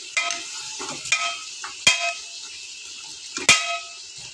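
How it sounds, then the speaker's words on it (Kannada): Mutton fries in a pan with turmeric powder and salt while a spoon stirs and clangs against the metal rim, several sharp knocks at irregular intervals over a faint sizzle. "ಇದು ಚೆನ್ನಾಗಿ ಫ್ರೈ ಮಾಡಬೇಕು"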